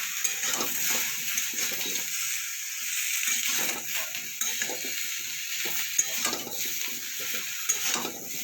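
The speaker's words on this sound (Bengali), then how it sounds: "এবার আমি বেগুনগুলো ভেজে নেবো।" Eggplant frying in mustard oil in a pan gives a loud, continuous sizzle close up, broken by soft stirring scrapes and clinks against the metal, with no voices.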